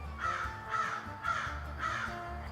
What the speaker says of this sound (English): Mr. Crow doesn't really like that I'm doing this video, I think.